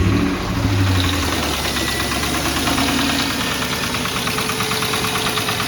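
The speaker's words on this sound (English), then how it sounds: "and then the idle should run higher again." Engine of a salvage Ford Mustang idling steadily at a raised speed with a faint knocking rhythm, close and continuous, with no talk.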